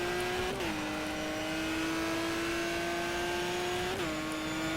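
A race car engine in the GTR 2 racing game screams at high revs around Monza, holding a steady, loud whine broken by two quick gear shifts, with no talking.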